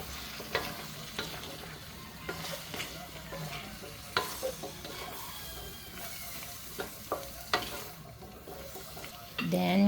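Chayote and broccoli stir-fried for chopsuey crackle and sizzle in a pan, with repeated utensil scrapes and clacks from stirring, close and steady throughout.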